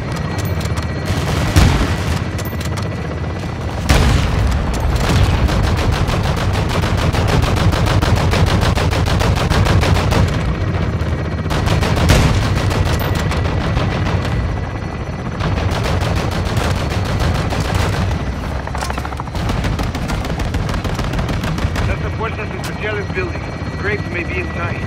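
Air support weapons fire in the Modern Warfare 2 campaign: dense, rapid machine-gun bursts and booming impacts over a droning helicopter rotor, loud and continuous, with radio voices talking over the barrage.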